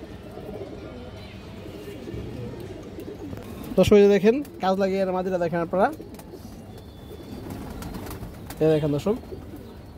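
A female Kajla gear pigeon and other pigeons coo quietly and continuously in the background while someone talks loudly over them in short stretches.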